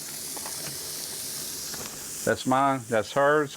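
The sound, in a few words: burger patties sizzling on the grill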